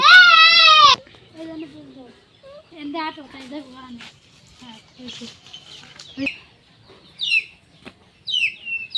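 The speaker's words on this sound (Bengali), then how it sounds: "মুরগি চাই কি সুন্দর করে ডাক পড়তেছে" A hen calls on a village farm where goats are kept: a loud bleat-like cry opens, then short clucks and calls scattered with pauses, alongside other faint bird chirps.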